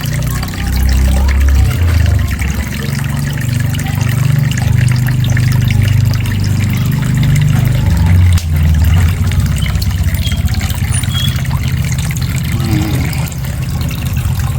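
Water pouring into a home fish tank during a water change, a steady close splashing and gurgling flow that thins to a lighter trickle toward the end.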